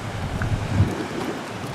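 Atlantic waves and wind on a rocky west-of-Ireland shore at Easky, a dense continuous roar of surf mixed with gusty wind buffeting the microphone, close and loud throughout.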